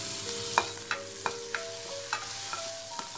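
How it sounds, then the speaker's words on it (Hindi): Cumin seeds and green chili paste frying in a pan for a vrat kadhi make a steady sizzle, with sharp spoon scrapes and clinks coming every half second or so, close and clear with no voice. "जीरा अच्छी तरह से भून जाए, फिर इसमें ग्रीन चिली का पेस्ट डाल देंगे।"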